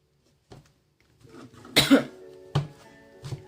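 A few harsh coughs close by, one stronger burst in the middle followed by two shorter ones, with quiet gaps between.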